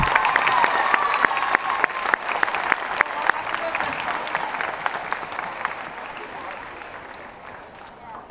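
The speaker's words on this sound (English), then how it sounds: "How about another round of applause for our student speakers?" A hall full of people claps loudly, the applause slowly thinning and fading out over several seconds, with a few voices mixed in.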